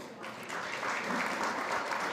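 A crowd at a food summit panel applauds the speakers, a full steady clapping that swells slightly after the opening moments and carries on without voices.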